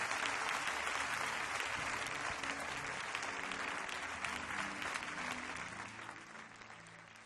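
Applause and cheering from a church congregation, a dense, steady wash of clapping that carries on for the full stretch and tapers slightly toward the end.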